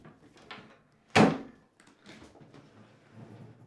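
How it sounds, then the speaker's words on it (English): A Whirlpool Maytag dishwasher, stood upright during a sump assembly replacement, has its door opened with one sharp clunk, followed by quieter rattling and shuffling nearby. "Stand the dishwasher back up and open the door."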